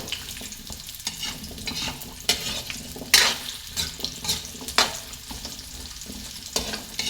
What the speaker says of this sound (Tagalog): unahin ko muna yung patatas sa prito